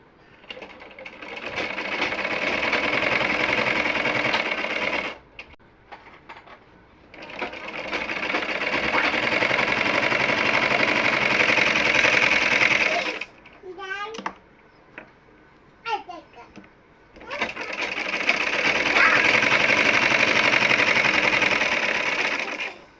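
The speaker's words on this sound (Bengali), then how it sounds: "দেখুন এবার সেলাই করি" A sewing machine stitches fabric scraps for children's clothing in three long runs of rapid, steady whirring. A child and an adult speak briefly in the pauses between runs.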